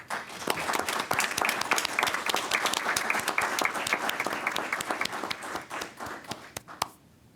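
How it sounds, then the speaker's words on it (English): Sustained applause from the audience at a Los Angeles Board of Fire Commissioners meeting, dense and steady for several seconds before it tapers off abruptly near the end. "we too would like to offer you a round of applause"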